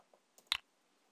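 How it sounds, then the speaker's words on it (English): A computer keyboard's enter key is pressed once, a crisp, close click preceded by a couple of faint taps, in an otherwise quiet room. "so I'm just going to hit enter"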